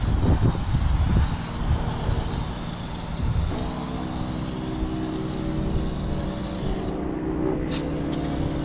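Adam's rinseless wash foam sprays onto a car in a long, loud, continuous hiss that briefly cuts out near the end and resumes.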